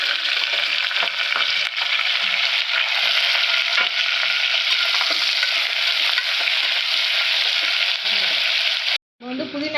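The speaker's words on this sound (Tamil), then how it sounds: "இப்போ நம்ம வெங்காயமும் பச்சை மிளகாய் ஒன்றாவே போட்டுலாம் வதங்கிறதுக்கு." Onions and green chillies frying in hot oil while being stirred in a pan for mint biryani rice, giving a loud, steady sizzle with stirring scrapes that runs almost the whole time, then cuts out briefly near the end.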